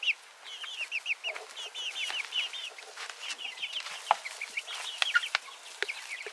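A barred rock chicken clucks in quick, repeated bursts close by, with other fowl chattering and calling around it on a farm.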